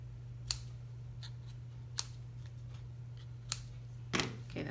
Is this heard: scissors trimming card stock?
yes